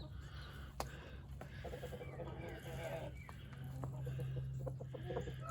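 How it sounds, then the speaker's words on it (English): A Wyandotte cross rooster and hens on a farm give soft, scattered clucks and low calls close by, mixed with steady background noise and occasional brief knocks. "there's a Wyandotte cross rooster"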